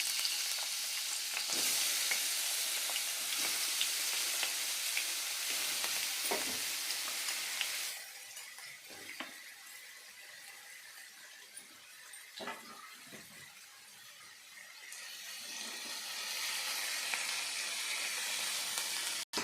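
Potato strips frying in hot oil in a pan, a loud steady sizzle that dips partway through and then swells again, with occasional stirring clicks and no talk.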